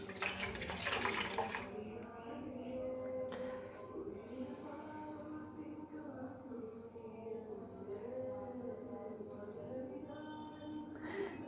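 Tap water runs steadily while a face pack is rinsed off the face, a continuous close splashing and trickling, with a faint voice murmuring underneath.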